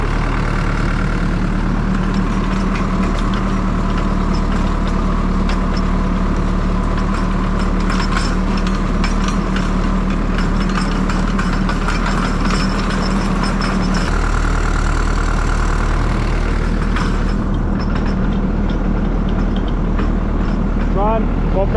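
A Tümosan 52.100 tractor pulling an 11-tine cultivator in a field runs steadily throughout at close range with a deep, continuous rumble, and a voice talks over it.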